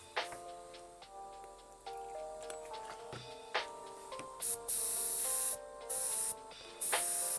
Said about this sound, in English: Let's see if I spray anything.